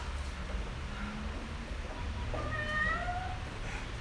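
An actress in a catsuit imitates a cat on a theatre stage, giving a short drawn-out meow near the end over a low room hum, with no other talk.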